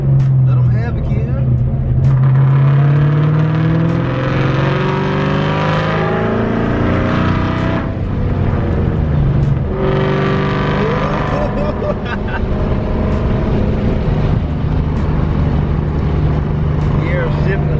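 A Ford Mustang Cobra engine revs hard and steadily, with its pitch dropping and climbing again at each gear shift. The engine note stays loud and close throughout.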